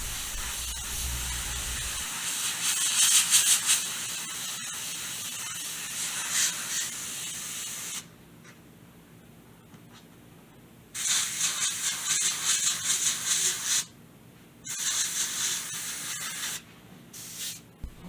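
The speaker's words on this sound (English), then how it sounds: "It's essential to test your airbrush before diving into your artwork." An airbrush spraying acrylic paint hisses in steady bursts, with a long continuous spray, a pause, then several shorter close-up blasts separated by near-silent gaps.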